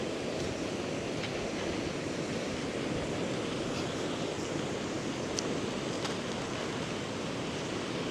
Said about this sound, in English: you can hear the water from way back there